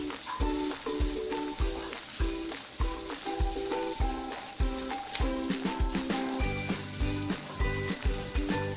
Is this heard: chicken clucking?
no